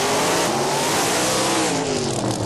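A supercharged drag race car, facing a Willys in the other lane at Motor City, revs hard for a dry burnout, a loud, continuous roaring engine with rising and falling pitch filling the whole moment.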